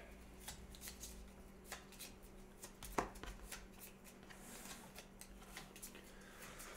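Cards from the Gloomhaven board game are shuffled by hand in a quiet room, making a quick run of soft riffling flutters and crisp snaps, with one sharper tap partway through and a faint steady hum underneath.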